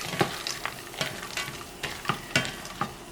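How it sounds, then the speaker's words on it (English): A spoon scrapes and stirs corn noodle pasta with tomato in a sizzling pan, giving a steady run of short, rhythmic scraping strokes over a constant frying hiss, with no talking. "Let me give that a little bit of a stir."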